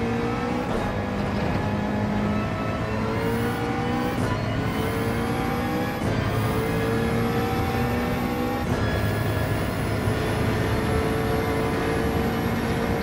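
A McLaren GT3 race car engine in Gran Turismo 7 at Deep Forest Raceway howls continuously, with repeated rising pitch sweeps through the gears and brief dips at each shift, loud and steady with no talk.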